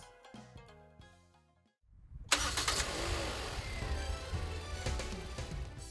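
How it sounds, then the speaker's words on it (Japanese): A car engine cranks and catches after a brief pause following installation of a larger battery, then settles into a steady, loud idle close by. "エンジンかけてみたいと思います。"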